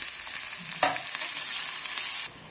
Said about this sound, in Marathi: आता आपण या त्यामध्ये कांदा टाकूया कांदा छान परतून घेऊया